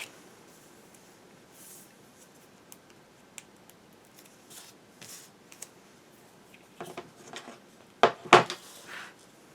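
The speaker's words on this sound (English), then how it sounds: "So I'm going to add a piece of tape to that." A piece of tape being handled and applied to a paper album page, quiet rustles and taps building to a couple of sharp close tearing rips near the end.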